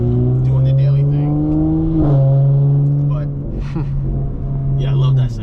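A tuned Stage 2 2018 Audi RS5 Coupe engine drones steadily from inside the cabin while driving, holding a strong low hum with one brief pitch change midway, as people talk over it.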